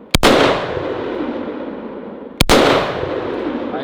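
Two loud, sharp .308 rifle shots from a PSA PA10 Gen 3 at an outdoor range, each a close crack followed by a long rolling echo that slowly fades.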